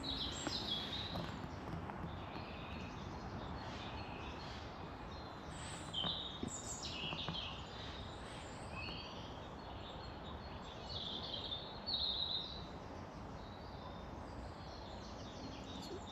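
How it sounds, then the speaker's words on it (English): Birds sing outdoors at a quiet camping spot, scattered chirps and short trills repeating at a moderate distance over a soft background hiss. "Just the birds."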